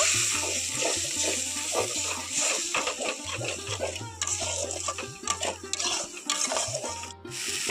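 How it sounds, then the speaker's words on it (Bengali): Spice paste for a Bengali green banana veg curry is sautéed in a pan with a splash of water, heard as soft wet scraping and stirring strokes with a light sizzle, fairly quiet and close. "আরও একটু পরিমাণ আমি জল দিয়ে দিচ্ছি মশলাটাকে এইভাবে আমি খুব ভালো করে কষিয়ে নেব"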